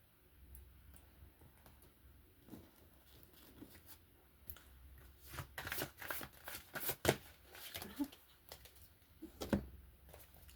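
Quiet shuffling of a deck of cards before a card reading, irregular soft riffles and taps growing louder and busier toward the end.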